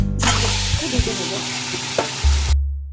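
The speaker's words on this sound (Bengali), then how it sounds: "ডিমগুলোকে একটু সরষের তেলে ভেজে নেব।" Boiled eggs coated in salt and turmeric sizzle and crackle in hot mustard oil in a pan, a loud steady fry with a few stirring knocks, no talking.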